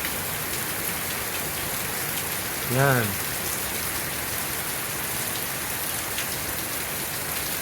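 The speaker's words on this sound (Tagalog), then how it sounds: "lakas ng ulan" Heavy rain falls on a morning in Sydney, Australia, a constant close hiss of drops pattering on surfaces, with a man's brief spoken word rising over the downpour midway.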